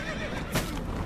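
A donkey in The Witcher 3 lets out a short whinnying neigh with hoof clops, fairly close and loud over steady game ambience.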